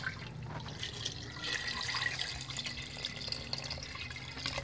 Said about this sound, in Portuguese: Põe mais água?